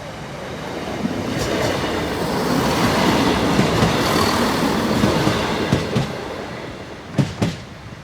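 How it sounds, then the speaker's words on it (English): A train rolls past close by at Boultham level crossing, building to a loud sustained rumble with rhythmic wheel clacks over the rail joints and a few sharp knocks near the end. "the train's here in 60 seconds"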